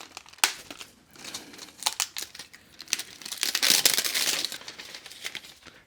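Plastic wrapping crinkles and tears as it comes off a spool of welding wire for a Hobart Handler 210MVP welder, close, busy rustling that swells into a loud sustained crumple near the end.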